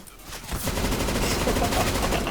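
Gunfire in a CS:GO competitive match, a rapid burst of automatic shots that starts abruptly and keeps going, loud and dense, with someone talking over it.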